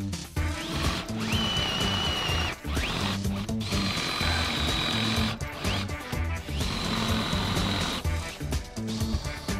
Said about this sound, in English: Use the Forstner bit to help me countersink bolts